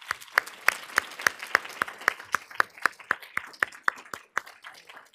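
Audience applause at a health-systems symposium comes as crisp, evenly spaced claps, near and distinct, holding a steady rhythm for several seconds before tapering off.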